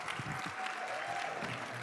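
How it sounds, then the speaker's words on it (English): Fairly quiet applause from the audience at an Arab American convention, a brief patter of clapping mixed with faint voices. "Let's give Mosab another round of applause"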